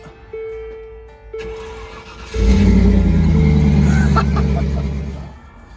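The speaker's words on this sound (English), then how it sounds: "We got a motor. It runs." A Land Rover Discovery engine cranks over and catches at about two seconds, then settles into a loud, steady, close-up idle with faint mechanical clatter and no talking.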